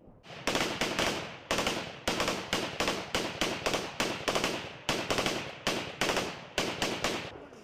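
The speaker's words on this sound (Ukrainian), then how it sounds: "Потім рясно поливають кулеметним вогнем." Loud machine gun fire in rapid repeated bursts, each burst a fast chatter of shots with brief pauses between, close by, on a war front line near Donetsk airport.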